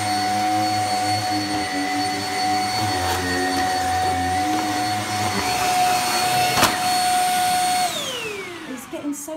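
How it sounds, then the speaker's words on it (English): A Shark powerhead vacuum cleaner suctioning carpet roars loudly and steadily with a high whine, then winds down near the end; a voice talks faintly over the motor. "Then what's the power on this carpet? That is such a powerful suction."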